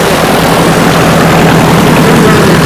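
An engine idling just after a fuel injection conversion roars loudly and steadily at close range, a dense, unbroken rumble with no pauses.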